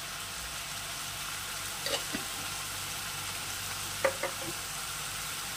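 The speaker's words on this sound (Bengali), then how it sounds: "কষাতে কষাতেই আমি এর মধ্যে দিয়ে দেই হলুদ" A spice mixture with turmeric is sautéed in a pan for dal curry, giving a soft, even frying hiss with a couple of light scrapes of a spoon.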